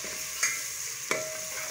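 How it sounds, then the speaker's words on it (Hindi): Garlic and green chili paste fries with onions and whole spices in a steady, close hiss, broken twice by quick scraping stirs of a spoon against the pan. "ये प्याज के साथ फ्राई कर रही हूँ ताकि जो लहसुन की अपनी स्मेल है वो ख़त्म हो जाए"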